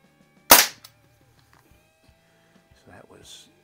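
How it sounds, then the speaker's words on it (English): A Crosman SNR357 CO2 revolver fires one sharp, loud crack, followed by a brief soft mechanical click and then faint voice-like sounds near the end. "Let's do some shooting."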